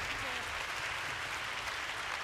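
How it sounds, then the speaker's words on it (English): At a pro wrestling match, a crowd breaks into applause, a thick steady rush of many hands clapping across the arena, with a low rumble beneath and a commentator's voice faintly woven in. "Big round of applause."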